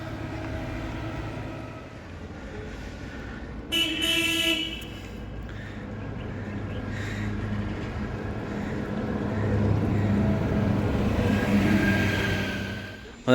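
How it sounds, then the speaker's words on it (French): A small vehicle horn toots in a short burst of a few beeps over a steady background of idling motor and road noise, fairly near and moderately loud. "On a le petit klaxon là tous les matins qui nous appelle là."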